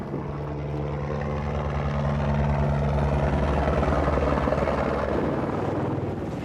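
A helicopter ferries four tonnes of food supplies to an Alpine mountain hut with no road access, flying in poor weather. Its rotor and engine give a loud, steady, continuous drone that fills the whole stretch, with no voices.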